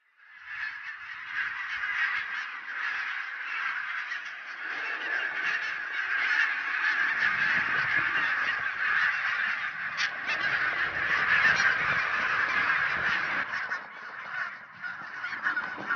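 A large flock of geese on Islay, Scotland, raises a dense, continuous chorus of overlapping honks and cries that swells and stays loud throughout, with no people talking.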